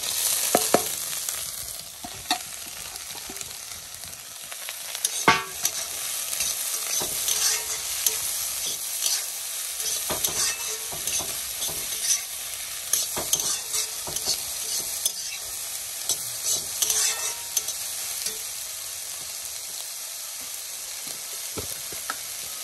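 Wild taro greens and crushed garlic fry in a hot pan with a steady, close sizzle and repeated stirring scrapes, with no talking.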